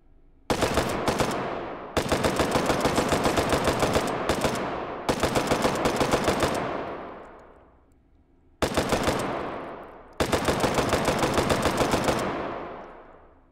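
Futuristic Bren-style machine gun firing in the VR game Hot Dogs, Horseshoes & Hand Grenades: loud, rapid automatic bursts of varying length, each ending in a ringing decay, with short gaps between strings of fire.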